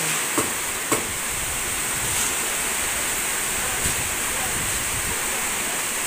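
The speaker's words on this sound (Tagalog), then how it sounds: "Nagumpisa na pong umulan." Steady broadband hiss of rain falling, constant and even throughout, with a few faint knocks and soft wind gusts.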